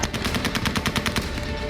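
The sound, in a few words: gunfire by American soldiers at Kabul airport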